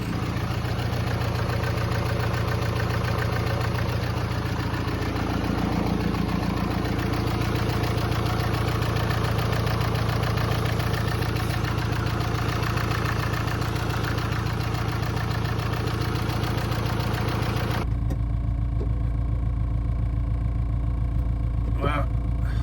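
A TDI diesel engine fitted in a T25 camper van idles with a steady, loud, rumbling knock right up close. The tone shifts abruptly near the end while the engine keeps running.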